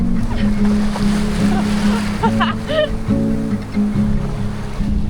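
Steady rush of ocean surf fills the background, with people's voices and splashing over it; the water noise stays constant throughout.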